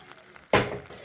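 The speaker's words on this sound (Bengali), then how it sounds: "এখন এই ফোড়নটা দিয়ে দেবো দই বেগুনের উপরে।" Hot tempering with curry leaves poured over doi begun, yogurt eggplant, giving one sudden loud sizzle that then fades gradually.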